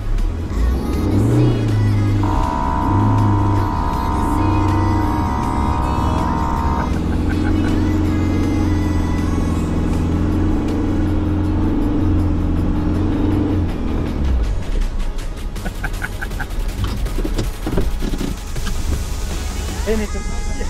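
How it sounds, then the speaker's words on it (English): A Toyota 4x4 with a 3-litre 1KZ engine revs hard off-road in a wet 4x4 park, its loud engine note rising and falling under voices before easing to a steadier drone. "Let's show them what these mighty Toyotas and that awesome 3-litre 1KZ can do."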